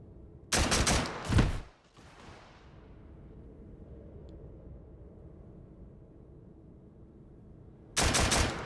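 Shotgun fire in the Hot Dogs, Horseshoes & Hand Grenades VR game: two loud close blasts in quick succession followed by a long fading rumble, then quiet background until a third blast near the end.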